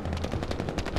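Rapid automatic gunfire in the Battlefield V video game, a dense, steady burst of close shots firing in quick succession for about a second, with no talking.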